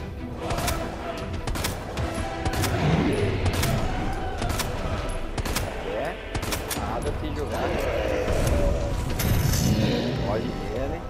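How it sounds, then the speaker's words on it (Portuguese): Gunfire in Resident Evil 2, shots fired repeatedly in rapid bursts that crack sharply over a busy game soundscape, while someone talks throughout. "Atirando nele, fico atirando de bobeira."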